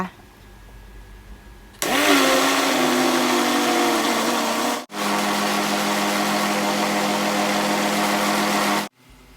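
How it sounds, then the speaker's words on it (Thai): Electric blender churning coconut taro ice cream, switching on with a loud steady motor whir that runs continuously, briefly cutting out midway before resuming, then stopping. "ปิดฝาโถปัน่น แล้วเปิดสวิตช์ปั่นไอศกรีมเลยค่ะ"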